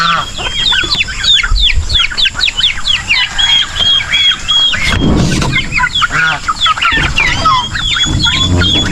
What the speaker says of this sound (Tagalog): may sisiw pa dito sa labas, oh